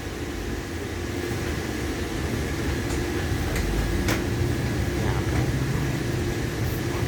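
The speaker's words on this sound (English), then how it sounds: "Yep, that's Southbound Autorack Train." CSX southbound autorack freight train passing in the Town of Ulster, a steady broad rumble and rolling roar with occasional clanks, sustained and close throughout.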